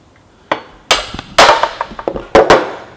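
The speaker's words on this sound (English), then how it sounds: "Start it with the hammer, and this should easily be pushed out with your screwdriver" A hammer strikes a few times to drive the central pin out of a treadle on a DOC200 trap, sharp close metallic knocks at irregular intervals, some in quick pairs, loud and alone.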